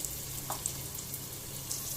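Three finely chopped onions fry in about two tablespoons of oil for drumstick flower sabzi, giving a soft, steady sizzle with faint crackles, close but quiet.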